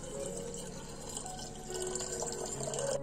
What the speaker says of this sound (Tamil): அரிசி கழுவுன தண்ணியே ஊற்றணும்.